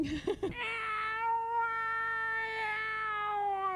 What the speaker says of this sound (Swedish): Stor katt alltså.